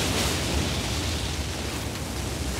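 Fire attack roaring from an Elden Ring character in the DLC, a steady broadband whoosh of flames held at constant loudness for a few seconds with no voices.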